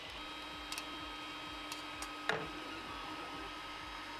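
A 3D printer, running on a portable charger powered by a 9V battery, prints its first layer with steady rhythmic motor ticks and a faint mechanical hum. There are a few brief clicks, heard close and quiet.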